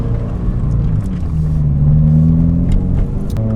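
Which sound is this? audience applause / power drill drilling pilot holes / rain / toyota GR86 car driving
toyota GR86 car driving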